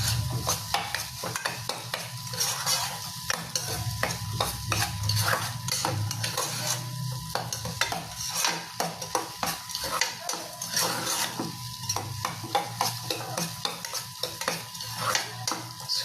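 A utensil scrapes and knocks repeatedly against a pan as food is stirred vigorously, steady rhythmic clatter over a continuous low sizzle, close and without talk.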